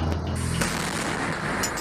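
Explosion of overfilled oxygen cylinders at a warehouse, heard as a dense, continuous roar of cracks and bangs with one sharper burst standing out, loud and sustained with no pause.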